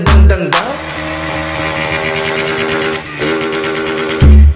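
Motorcycles rev hard at a street gathering of young riders, a loud, close, sustained engine drone with sharp bursts of throttle at the start and end and a brief dip partway through.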